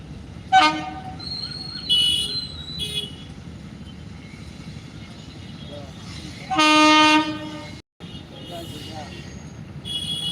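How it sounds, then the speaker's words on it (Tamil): A Vande Bharat train rumbles past at Usilampatti while its horn sounds in several loud blasts, one long and sustained, with a brief voice audible in between. "அந்த ட்ரெயின் சீக்கிரம் வந்து"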